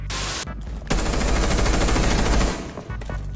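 Automatic gunfire from a Rainbow Six Siege match rattles in loud, rapid bursts, one long sustained volley between shorter ones, harsh and close.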